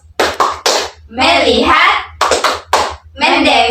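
A class of children claps in short rhythmic bursts, hands striking together in patterned groups while their voices chant along over the claps, all close and loud.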